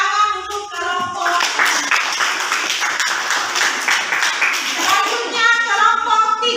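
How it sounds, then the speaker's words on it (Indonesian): Classroom applause for a student group after its presentation, a steady patter of many hands clapping throughout, fairly close and even, with a few faint voices beneath. "kita beri tepuk tangan untuk kelompok"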